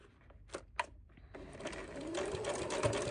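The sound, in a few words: sewing machine stitching fabric coaster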